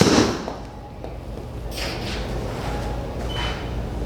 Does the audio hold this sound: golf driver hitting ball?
yes